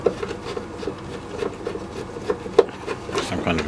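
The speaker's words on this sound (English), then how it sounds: "now I'm just removing the speaker here. There's four quite rusty screws. Actually, these are bolts." Rusty bolts are worked loose from a Marshall amp speaker cabinet, a close, dry scraping and squeaking with small rasping turns and occasional sharp ticks, fairly quiet and without talk.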